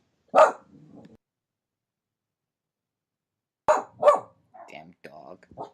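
A dog gives a short bark followed by low growly yips, then after a pause a few more barks come in quick succession, mixed with someone talking nearby.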